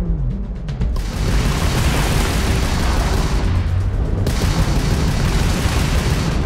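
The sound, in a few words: homing missile fired at enemy ship in video game Starfield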